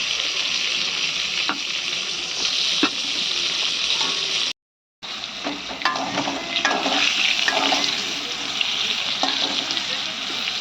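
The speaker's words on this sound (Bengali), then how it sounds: "ততক্ষণে পটলটা ভাজতে শুরু করে দিয়েছে।" Pointed gourd (potol) fries in a pan with a loud, steady crackling sizzle and occasional stirring scrapes, briefly cut off for a moment before it resumes.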